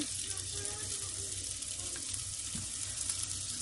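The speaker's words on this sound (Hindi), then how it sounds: "प्याज डाल दें, ये थोड़ा सौते होता है 1 मिनट के लिए" Onions sautéing in a little oil, a continuous even hiss of frying close by, steady in level throughout with faint background murmur.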